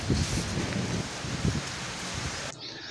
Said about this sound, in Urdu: نماز کے بعد بارش شروع ہو گئی اور شدید جو ہے وہ تیز ہوائیں اور ساتھ میں بارش